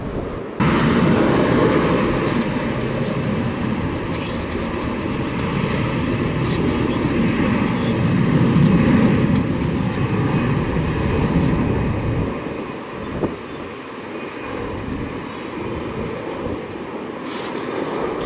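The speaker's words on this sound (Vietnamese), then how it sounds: "chiếc máy bay đã được lệnh theo xe dẫn của sân bay Tân Sơn Nhất tiến ra đường băng 25 trái" A jet taxis to runway 25L at Tan Son Nhat airport, its engines giving a loud, steady roar and whine nearby that eases slightly toward the end.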